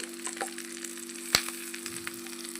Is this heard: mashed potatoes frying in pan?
yes